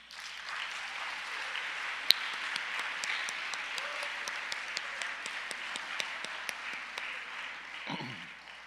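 An audience at a school convocation at Annapolis Christian Academy applauds, a sustained, even patter of many hands from a hall crowd, moderately distant, with a few sharper claps standing out before it fades.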